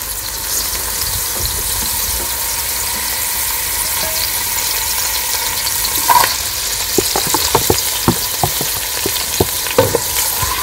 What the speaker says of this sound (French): Je suis en train de faire frire mes oignons et le piment que j'avais préalablement découpé